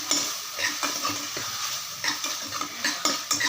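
Ginger sautéing in a pan for country chicken curry, with a soft sizzle under repeated scraping stirs of a utensil, close and fairly quiet, with no talking.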